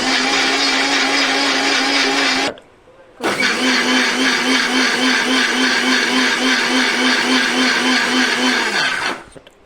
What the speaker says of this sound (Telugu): దీన్ని ఇప్పుడు మిక్సీ చేసుకోండి.